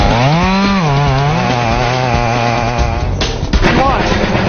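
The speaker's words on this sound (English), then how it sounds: "crews armed with chainsaws hike into rugged terrain and go to work" Logging crews run chainsaws while felling trees on rugged forested terrain; a loud, steady engine drone rises and falls in pitch as the saw bites, with a voice speaking over it.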